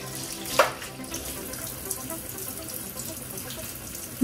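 Tap water runs into a kitchen sink while dishes are rinsed, a continuous close splashing stream with a brief clatter near the start and no talking.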